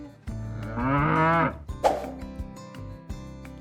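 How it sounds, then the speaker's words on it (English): A cow moos once, a long, drawn-out low call rising and falling over about a second, followed by a few soft clunks and knocks. "I bet you know what sound a cow makes. Moo."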